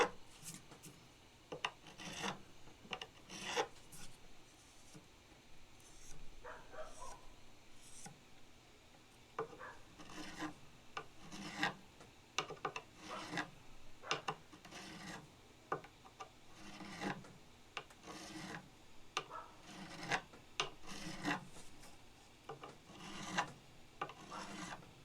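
A file crowns newly installed frets on a vintage Hohner Shark Fin guitar, rasping in a steady series of short back-and-forth strokes, close and distinct with no voices.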